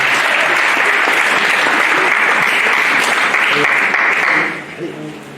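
A church congregation applauds loudly and steadily for about four and a half seconds, the clapping dense and close before it suddenly fades out.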